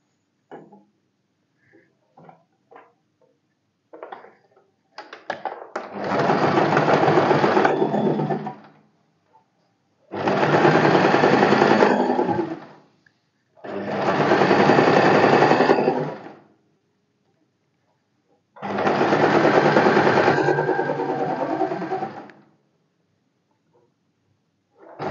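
A sewing machine stitches a blouse in four long bursts of steady whirring, each several seconds, separated by quiet pauses with faint clicks and handling noises.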